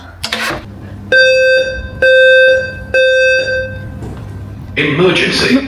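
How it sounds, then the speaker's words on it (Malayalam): A building fire alarm rings in loud, steady electronic tones, sounding in three repeated bursts with brief gaps between them; people talk before and after the alarm. "അപ്പോൾ അതെ കണ്ടോ, ഫയർ അലാം അടിച്ചു."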